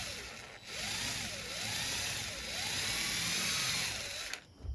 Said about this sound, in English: Like a pre-drill here.